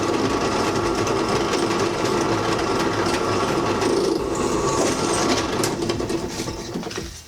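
A power drill bores a hole in a plastic turn signal mount, making a steady, loud, close whirring grind that runs continuously before winding down at the end.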